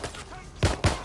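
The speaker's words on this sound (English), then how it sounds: "Gunfire, over here." Two sharp, close gunshots crack in quick succession during gameplay in Watch Dogs Legion, following a stretch of quieter game ambience.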